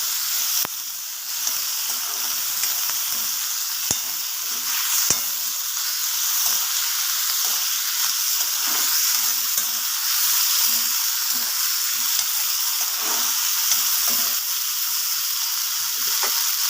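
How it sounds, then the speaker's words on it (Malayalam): Food frying in hot oil in a pan sizzles loudly and steadily throughout, with occasional scrapes and knocks of a spoon stirring it up close, no talking. "ഇളക്കി കൊടുക്കാം"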